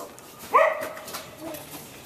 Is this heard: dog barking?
yes